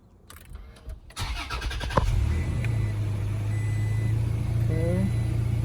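Toyota Tacoma pickup truck engine cranking and catching, then settling into a steady near idle hum, with a short rising tone near the end.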